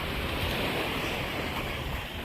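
Ocean surf rolls onto a hot Grand Turk beach as a steady, dense wash of broadband water noise, with some wind rush mixed in and no pauses between waves.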